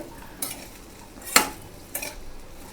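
A spoon stirring okra and potato curry in a pan, with a few scraping strokes and one sharp clink against the metal over a soft background sizzle, close by and without speech.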